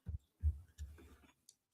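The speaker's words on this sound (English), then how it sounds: "Normal heartbeat of a football fan" Heartbeat sound effect, representing a football fan's normal pulse, with soft low thumps in an irregular double-beat pattern followed by a faint click, heard alone and quiet.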